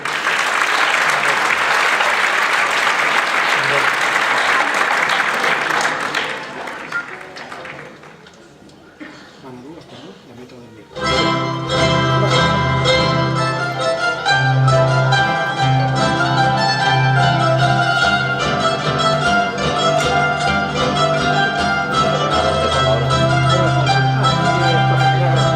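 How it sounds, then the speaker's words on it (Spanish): Audience applause at a presentation of a jota music album, a dense burst of clapping for several seconds that fades out before loud music starts up and carries on. "Un aplauso."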